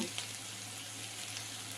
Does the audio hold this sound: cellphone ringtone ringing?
no